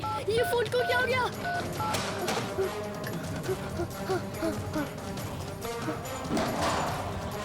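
A telephone is dialed while trying to call a doctor, with a quick run of beeping keypad tones at the start, followed by thumps and background sound in a tense indoor scene.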